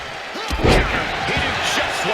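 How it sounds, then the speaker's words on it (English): A diving clothesline slam in the WWE 2K26 wrestling video game, one heavy thudding impact with crowd noise and an announcer's excited commentary over it. "Look out! Diving clothesline!"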